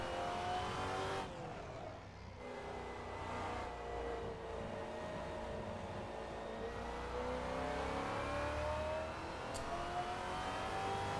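In a racing simulator, a Maserati MC GT4 laps Zandvoort, its engine droning steadily as pitch sweeps up through the gears and down under braking, with brief tire squeal, loud and continuous with no talking.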